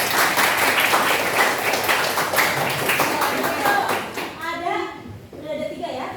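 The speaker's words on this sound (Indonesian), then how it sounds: "Oke, tepuk tangan." Children in a classroom break into loud, sustained applause that fills most of the moment, then it fades out while a voice and other voices carry on.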